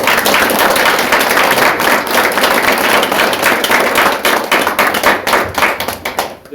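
Dense applause from a political party audience in a Korean hall, steady loud clapping throughout that thins slightly toward the end, with no talking over it.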